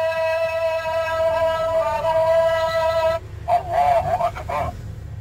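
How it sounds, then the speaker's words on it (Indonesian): Azan call to prayer played through the small speaker of an educational Quran tablet toy, a thin, sustained melodic voice with bright harmonics, loud and close, cutting off after about three seconds into a brief warbling tone. "Ini suara azan."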